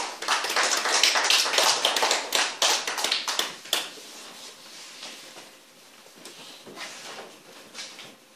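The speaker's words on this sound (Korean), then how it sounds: "하나님께 영광의 박수 올려드립니다" A church congregation at a Sunday worship service claps in praise, a loud burst of many hands that thins out midway and trails off into scattered, quieter claps.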